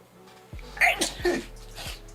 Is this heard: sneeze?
yes